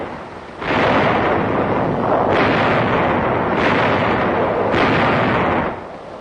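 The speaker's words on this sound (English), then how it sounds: "A heavy artillery barrage prepares the way for the infantry advance." Deep, rumbling booms roll continuously for several seconds, a heavy sustained barrage of distant World War II artillery fire on Corregidor before an infantry advance, with repeated surging blasts.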